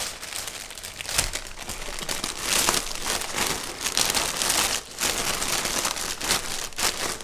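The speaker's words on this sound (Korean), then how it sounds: "이런 투명 비닐 정도만" Clear plastic sheeting is handled and crinkled while covering a potted croton houseplant, giving a continuous loud rustling and crackling close by.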